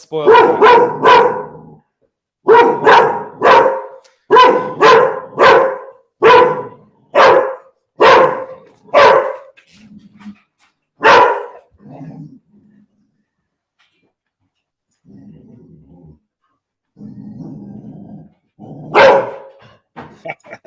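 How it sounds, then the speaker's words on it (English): A butcher's dog from up the street barks in a fast run of about a dozen loud, sharp barks, then pauses before quieter whimpers and one last bark, with voices speaking in the gaps. "It's the butcher's dog from up the street."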